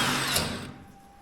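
Power drill boring a hole in stainless steel, a loud steady whir that tapers off and stops within about a second.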